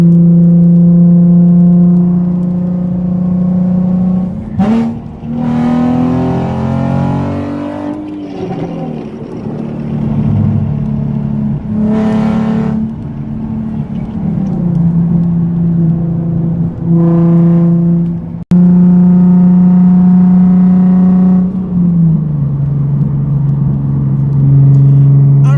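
A Nissan 370Z accelerates hard as traffic clears, its engine note climbing loud and close through several revving pulls and gear changes, with throaty rises and brief dips between shifts.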